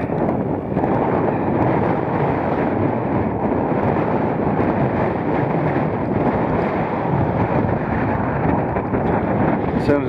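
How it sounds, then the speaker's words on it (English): Strong gusty wind roars across a hilltop in the Lake District fells, buffeting the microphone with a loud, continuous low rumble from start to end, with no voices. "As soon as I said that, the wind gets up"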